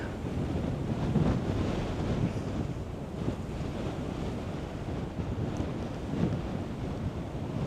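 A steady, loud wind blows outdoors in Zion in winter, a broad rumbling rush with gusts and buffeting against the microphone, with no voices.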